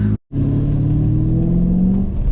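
A BMW E34 540i's M60B40 V8 engine drones loudly close by, its low hum climbing steadily in pitch as the car accelerates after a brief cut at the start.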